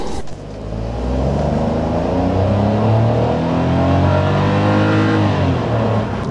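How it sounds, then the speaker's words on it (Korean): A Hyundai Casper light SUV with its 1.0 turbo engine revs hard under full acceleration, a loud, steady in-cabin drone that climbs in pitch through the gears and stays dominant throughout. "지금 급가속을 해봤는데 야, 경차치고는 엄청 잘 나가지만 아우, 엔진 소리가 너무 시끄러운데요"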